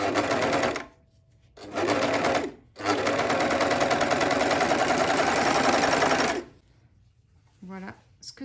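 An overlocker sergers fabric around a rounded corner in three loud bursts, stopping briefly twice, with the fabric eased and gathered slightly between runs; a short soft click follows the final stop.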